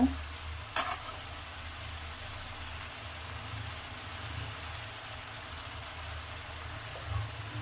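Vegetables for sambar sauté in a pan with a continuous soft sizzle and a sharp clatter near the start, steady and unaccompanied by speech.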